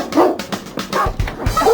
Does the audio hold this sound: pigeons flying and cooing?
no